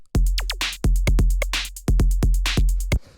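A processed electro drum loop for gritty electro in the style of Jensen Interceptor, run through a drum bus effect: punchy, saturated kicks and snares with bright hats and pitched sweeps in a steady driving pattern, loud and upfront with no voices.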